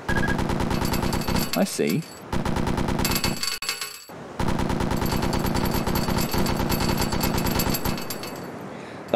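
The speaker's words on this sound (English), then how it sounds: "Grab the vertical handle with your right hand to precisely aim the machine gun and pull the slider to the, on the left of the gun." A submarine deck machine gun in Iron Wolf VR firing long, loud, rapid bursts with brief pauses between them, and a voice briefly speaking over the firing.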